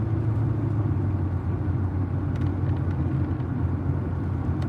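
Traffic on a road, a steady low rumble of passing cars with a continuous engine and tyre drone, fairly loud and unbroken, with no voices.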